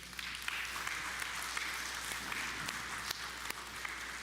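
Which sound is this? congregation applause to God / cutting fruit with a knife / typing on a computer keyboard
congregation applause to God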